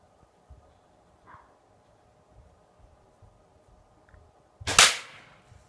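An arrow loosed from a 2013 Diamond Infinite Edge compound bow set near 50 pounds with a 27-inch draw strikes a coconut, one sharp loud crack near the end after quiet background shuffling.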